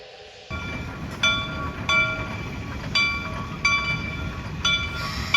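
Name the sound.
steam locomotive train approaching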